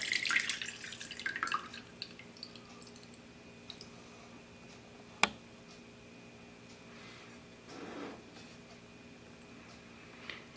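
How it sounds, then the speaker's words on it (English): Water trickles and drips from a bowl, scattered drops and a brief louder splash in a quiet room. "I'm just gonna pour out the water"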